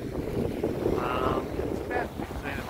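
Wind gusting across the open shore of Lake Victoria on a sunny morning, a steady low rumble of buffeting over the microphone with soft water sounds beneath, continuous and fairly loud.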